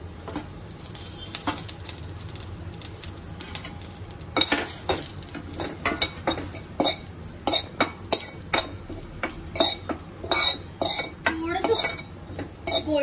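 Dried coconut roasts in hot oil in a pan, a soft sizzle at first, then busy clattering and scraping of a utensil against the pan with sharp clinks through the second half.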